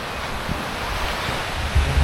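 Sea waves wash onto the white fine-sand beach at Station 3 on Boracay, a steady roaring surf mixed with gusty wind rumble against the microphone, with a heavier swell at the end.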